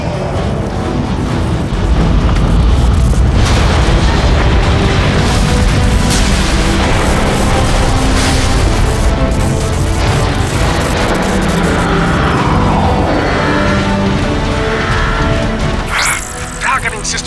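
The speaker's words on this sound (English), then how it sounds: "The neutron gun is activating." Neutron gun powering up in the Transformers: Fall of Cybertron video game, a loud, continuous dense rumble with booming bursts and mechanical whirring, rising near the end.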